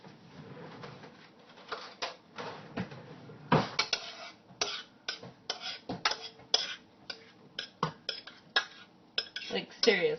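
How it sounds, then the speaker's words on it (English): Food is scooped into a bowl with repeated clinks and scrapes of utensil against dish in an irregular run of close, fairly loud knocks. "I'm just going to put it into a bowl here"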